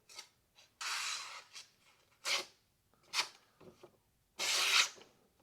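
A Kizer Sub 3 knife with an aluminum handle slices through paper in several short, dry rasping strokes, close and fairly quiet, separated by brief pauses.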